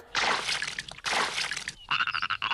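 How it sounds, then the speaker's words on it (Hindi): Frogs croak in a few loud, raspy bursts close by, with short pauses between calls and a brighter trilling croak at the end. "वो देखो उन मेंढकों को।"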